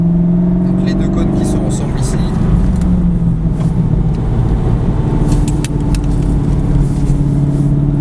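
A car accelerating on a coned driving course, its engine droning steadily and loudly throughout while someone talks over it.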